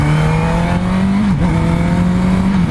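A Honda CB650F four-cylinder motorcycle engine revving loudly up close, a sustained high-pitched howl holding steady with a brief dip midway, no voices.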